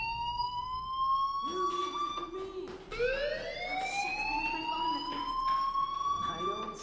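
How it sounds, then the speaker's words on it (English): Fire alarm ringing in the video game Life is Strange: a steady electronic tone that sweeps upward partway through, continuous and fairly loud, with faint voices underneath. "do you hear that fire alarm?"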